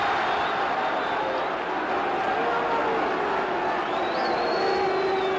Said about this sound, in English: the crowd, of course, are taking a dim view of the All Blacks rucking